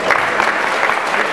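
A crowd at a high school graduation ceremony applauds with a burst of dense, steady clapping, loud and close, lasting only a moment.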